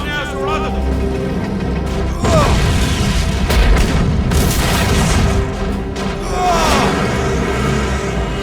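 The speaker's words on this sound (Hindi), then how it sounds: "फायर करते रहो, जो भी सामने आए उड़ा दो।" Animated cartoon battle with rapid gunfire and heavy booming explosions that come in dense loud bursts, under shouted dialogue from the characters.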